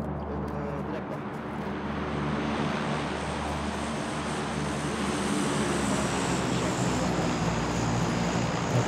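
In the game PUBG, an airplane drones steadily overhead, a loud continuous engine roar that swells and holds throughout with no other sounds over it.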